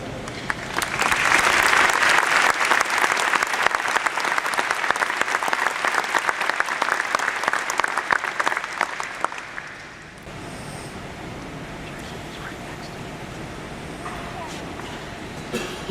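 Broad, dense applause from a crowd at a graduation ceremony, loud and sustained for about ten seconds, then cutting off into a quieter room tone.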